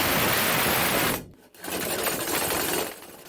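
A drill spins a homemade air duct cleaning brush at 1300 RPM, a loud, close whirring buzz that briefly drops out, then resumes and fades slightly near the end.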